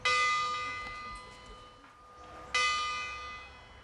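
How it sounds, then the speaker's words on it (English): A bronze bell struck twice, each strike a bright clang with long ringing overtones that slowly fade, the second hit landing a few seconds after the first, clear and close. "Bells are made of bronze because of the sustained notes it produces and its corrosion"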